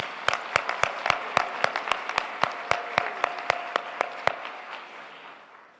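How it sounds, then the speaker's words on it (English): A small audience at a 2023 high school graduation ceremony gives a short round of applause, a sparse, sharp series of distinct claps close by that thins out and fades toward the end. "Please give her a round of applause."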